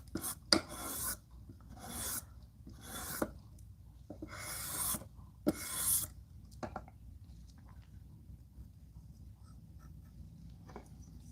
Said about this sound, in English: Just doing some quick knife sharpening